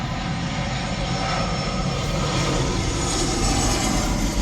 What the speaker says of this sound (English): That's an airplane, probably like 100, 200 feet above my head right there.